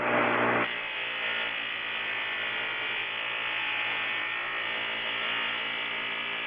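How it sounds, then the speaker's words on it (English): Buffing wheel polishing metal with compound, a high-speed motor whining in a steady, even drone, with a brief louder burst at the start before it settles into a constant hum. "The higher RPM wheel really helps in bringing out the shine."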